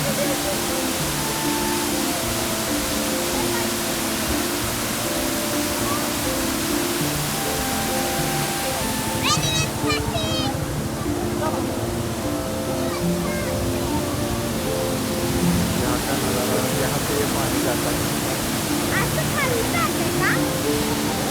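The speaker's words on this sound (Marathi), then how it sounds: "याचा वॉटर फ्लो पण भरपूर होता. पाणी एवढ्या जोरात येत होतं," Heavy rush of a roadside monsoon waterfall near Mahabaleshwar, a steady loud broadband roar filling the whole stretch, with a few faint bird chirps and brief voices mixed in.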